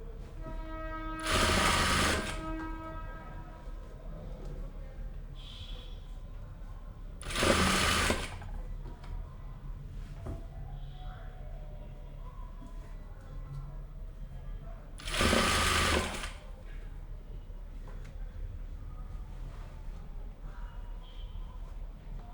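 A sewing machine stitches the seam of a kameez sleeve in three short, loud bursts of rapid whirring, each a second or two long and separated by quiet pauses with faint handling noise.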